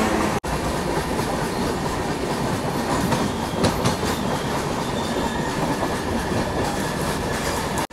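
A Visakhapatnam–LTT Express train rolls steadily along the rails, a loud continuous rumble with rhythmic clacking of wheels throughout, no voices.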